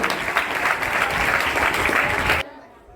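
Students at a school cleanliness quiz applaud a team with a burst of brisk, steady clapping that stops abruptly, leaving a quiet room.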